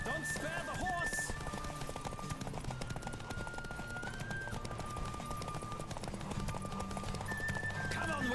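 Rapid hoofbeats of a galloping horse in The Witcher 3: Wild Hunt in a steady rhythm, set against a layered backdrop of game music and ambient noise.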